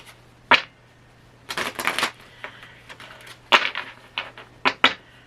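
Tarot cards being shuffled and drawn, heard as bursts of crisp papery riffling and snapping with short flicks between them, close up and alone with no talking.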